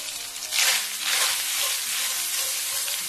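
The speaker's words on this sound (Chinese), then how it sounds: "将食材给它煸香" Minced pork with scallion, ginger and garlic sizzles and hisses in a hot wok over medium-low heat, with bursts of stirring where the spatula turns it; steady frying noise, no talk.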